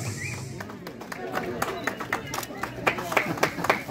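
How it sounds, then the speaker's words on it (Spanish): An audience at a May Cross festival personality contest claps for a prize winner, with scattered hand claps building into irregular applause under a busy, talky room murmur. "¡Palmas, señoras y señores!"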